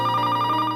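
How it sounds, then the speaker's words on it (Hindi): A brief electronic telephone ring, a steady warbling tone heard close and clear, cut short after under a second. "फोन की घंटी"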